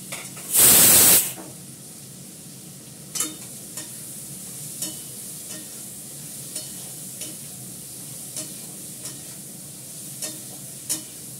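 Ginger paste stir-frying in hot oil in a wok, a loud burst of sizzle and spray at the start settling into a low continuous fry, punctuated by regular soft scrapes of stirring.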